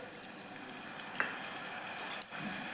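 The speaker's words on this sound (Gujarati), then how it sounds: "આ મસાલા આપણા બળે નહીં એટલે થોડું પાણી એડ કરશું" Spice masala with coriander-cumin powder sizzles in a pan for a pigeon pea and brinjal curry as a little water is added, giving a steady close hiss with a few sharp clicks and scrapes, no voices.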